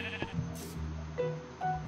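A sheep in a survival video game gives several short, faint bleats spread across the moment, with no talking over them.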